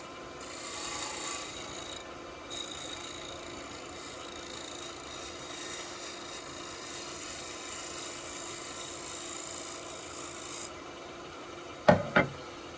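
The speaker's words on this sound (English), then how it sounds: "we'll go back to the bigger scraper" Large hand scraper shaving a wooden surface, a continuous rough rasping drawn out over several seconds, close and fairly quiet, ending with two sharp knocks.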